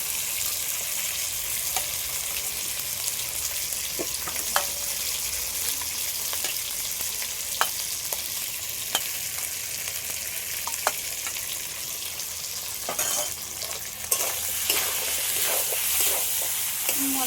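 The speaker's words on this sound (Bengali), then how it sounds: "মশলার সাথে মাছের মাথাটা ভালো করে কষানো হয়ে গেছে" A fish head and spices sauté in a pan for a moong dal dish, producing a continuous sizzle with intermittent spatula taps and scrapes over about seventeen seconds, without speech.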